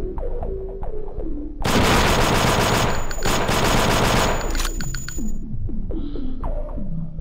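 Rapid submachine gun fire from the video game Thing Thing 3, a loud dense continuous burst lasting several seconds, with sparser shots and clicks before and after, no voices.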